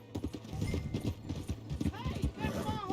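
Horse hooves clip-clop in Red Dead Redemption 2 in a quick, steady trot close by, and a whinny rises near the end, with voices talking over the hoofbeats.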